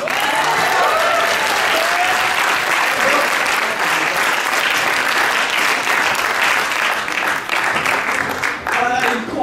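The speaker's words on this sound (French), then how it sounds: "On applaudit." An improv theatre festival audience applauds in loud, dense clapping that fills the room for about nine seconds, with some cheering and voices mixed in.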